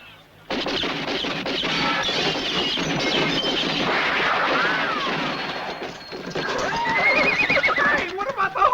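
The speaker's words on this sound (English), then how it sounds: "Hey, what about the horses?" Horses in a Western film scene neighing and whinnying over busy hoof clip-clops, loud and continuous, with a jumble of clatter beneath.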